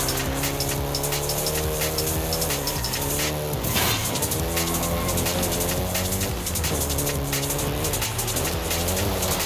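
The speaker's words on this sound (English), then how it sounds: "the Golf GTI you're driving right now" Volkswagen Golf GTI engine revving steadily while driven in Forza Horizon 5 in Mexico, a loud, continuous engine drone that rises and falls through gear changes, with brief tire noise and no voices.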